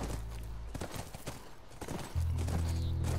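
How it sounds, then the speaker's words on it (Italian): Horse hooves clip-clopping in The Last of Us video game near a ranch, rapid irregular hoofbeats at moderate distance, followed by a steady low rumble. "Quello è il nostro cavallo"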